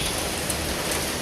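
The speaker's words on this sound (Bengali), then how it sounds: "কত বৃষ্টি" Heavy rain pours in a steady, dense hiss, loud and constant throughout with no pauses.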